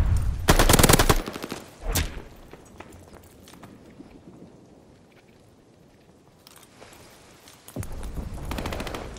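Rapid automatic gunfire from a video game firefight at a hard point, loud bursts at the start and end with a quieter rumbling stretch between.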